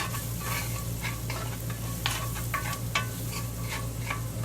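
Garlic frying in butter is stirred around a pan, with repeated sharp scrapes and clicks of the utensil over a continuous sizzle and steady low hum, close to the pan.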